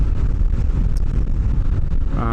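Heavy, steady wind buffeting roars across the microphone while riding a 2025 Kawasaki Ninja 650 at highway speed, a loud rumbling rush with no voices.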